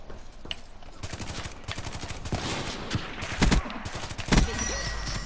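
Shotgun blasts and other gunfire rattle through a Call of Duty Black Ops 3 gameplay match, loud and dense, with several sharp heavy booms standing out from a constant stream of shots.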